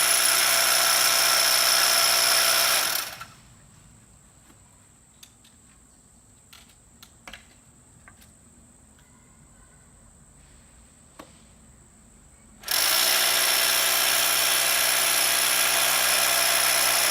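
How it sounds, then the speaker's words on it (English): A power drill bores anchor holes at a pool edge, giving two loud bursts of steady, harsh whirring at the start and end, separated by a quiet stretch with a few small clicks and taps. "Now we're getting ready to drill the anchor holes"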